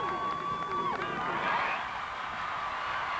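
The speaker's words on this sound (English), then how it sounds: "And the crowd have given him an enormous cheer" Crowd cheering at the Sydney 2000 Olympic equestrian cross-country course: a broad, steady roar of spectators, held at an even level throughout, with a brief high whistle-like tone early on.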